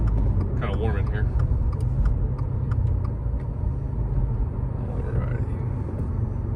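A 2022 Subaru WRX with an ETS cold air intake and Perrin charge pipe pulls hard in third gear up to about 4,000 RPM. The engine makes a loud, steady rumbling drone heard from inside the car, with no talking.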